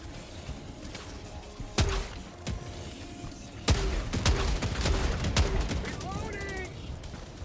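Grenade launcher firing in the co-op shooter Helldivers 2, several sharp thumping shots and blasts at irregular intervals over steady battle ambience, with a voice talking over them.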